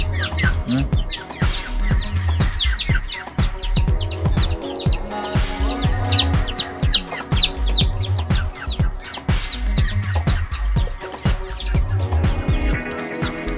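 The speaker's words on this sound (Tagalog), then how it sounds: "Yan, gumala na yung mga manok." Chickens cluck and call repeatedly in a busy farmyard, overlapping calls and chirps steady throughout, fairly close and moderately loud.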